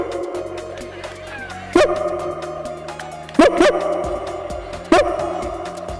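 A voice imitating a foreign breed of dog barking, three sharp, loud bark-like bursts spaced a second or two apart over a noisy background, performed on stage.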